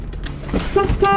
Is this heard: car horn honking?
yes